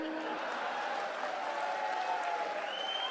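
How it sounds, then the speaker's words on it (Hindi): Party workers at a political rally in Bhopal keep applauding. A continuous wash of crowd clapping sounds distant and even, with a faint tonal hum running underneath. "कार्यकर्ता ताली बजाते रहे।"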